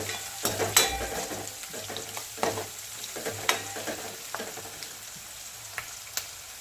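Garlic frying in a pan for aloo matar pulao, a soft steady sizzle broken by a few sharp stirring clatters and scrapes of a utensil, with no voices.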